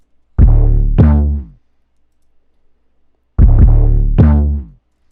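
Punchy distorted 808 bass hits in two pairs, each pair sliding between pitches, with silence in between; loud and up front.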